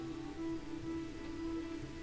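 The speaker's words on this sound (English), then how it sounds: "Look at how beautiful the rain is" Rain in the colony-building game Songs of Syx, a faint, soft, steady patter under a low sustained tone, with no talking.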